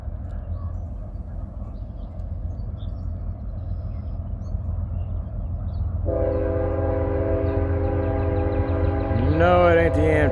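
A train rumbles past at a steady roar, and partway through its multi-tone horn sounds, loud and sustained, then bends in pitch near the end. The passing train is not an Amtrak.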